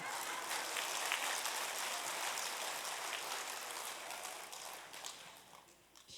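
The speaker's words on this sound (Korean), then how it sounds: "여러분 스스로를 위해 박수 한번 치셔야 해요" A church congregation claps together in a sustained wash of hand claps, fairly even and moderately loud, thinning slightly toward the end.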